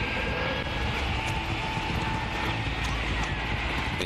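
Old propeller-driven attack aircraft fly over warships during the attack on HMS Coventry. A continuous roaring, droning engine noise fills the whole stretch at an even moderate level.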